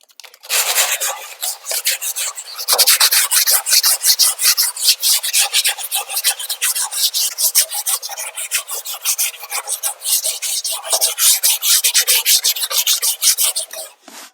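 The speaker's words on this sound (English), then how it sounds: "Just give it a quick hand sanding with the sanding block" A sanding block rubbed by hand along the edge of an interior door being narrowed, a steady close rasping scrape in quick back-and-forth strokes that continues almost without pause, with no voices.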